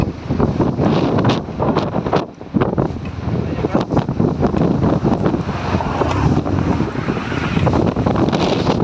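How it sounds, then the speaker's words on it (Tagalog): Strong gusts of wind and pounding sea waves during Typhoon Tino in Aklan, a loud, continuous roaring wash with surging bursts, close and dominating throughout. "Ayan yung sungit ng panahon."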